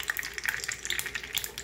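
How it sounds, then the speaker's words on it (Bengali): A spoonful of ghee hits hot oil in a pan for frying rohu fish, crackling and spitting in a steady close sizzle with sharp bright pops. "আমি 1 চামচ ঘি দিয়ে দিলাম তেলের মধ্যে"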